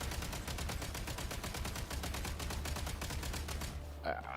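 Rapid automatic gunfire from a video game: a fast, even stream of shots fired continuously for several seconds before cutting off, with no voice over it.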